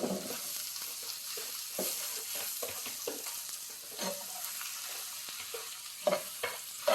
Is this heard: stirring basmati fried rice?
yes